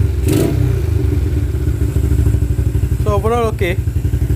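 A modified Yamaha LC motorcycle engine running close by, with a steady rapid beat and some clatter. Someone talks briefly over it near the end.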